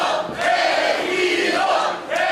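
A crowd at a professional wrestling show cheers and shouts as luchador Elegido tags in. The noise rises and holds as a loud, sustained roar, then swells again at the end.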